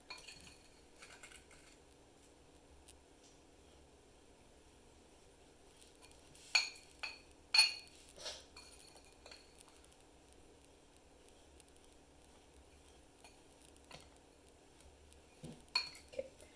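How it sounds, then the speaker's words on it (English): Metal spoon stirring a mixture in a bowl for a simple science experiment, giving sparse clinks and scrapes with clustered knocks near the middle and end, quiet between, no voices. "You are going to have to start stirring it for quite a while."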